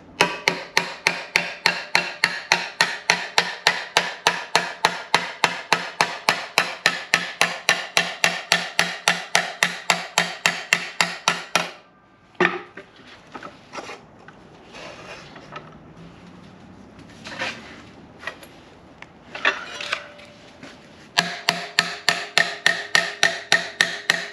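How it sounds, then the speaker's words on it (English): Rapid, steady hammer taps on a car's D pillar rust repair panel, dozens of sharp metallic blows in two long bursts separated by a quieter stretch of scattered knocks and handling noise. "let's give her some love taps."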